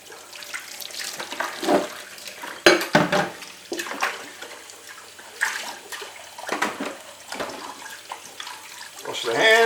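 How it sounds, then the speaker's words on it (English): Hands being washed under a running kitchen tap, a steady close splash of water broken by brief clatters and shifts in flow, with no speech over it. "Wash the hands."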